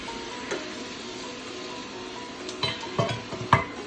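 A sofrito of onions, garlic, tomatoes and peppers cooks in a pot with a soft, steady sizzle. A few clinks and scrapes from stirring come near the end. No one speaks.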